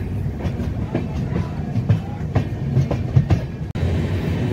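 The 12368 Vikramshila Express passenger train runs on rails with a rhythmic clickety-clack of wheels over joints under steady rumbling noise.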